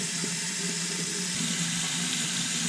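Hot water runs from a household tap into a sink, a steady close rushing splash with a faint tonal hum in it, unbroken and without talk.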